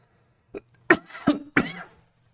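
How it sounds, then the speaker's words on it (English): Several harsh coughs in quick succession, close and fairly loud, with no talking. "Sorry for the cough."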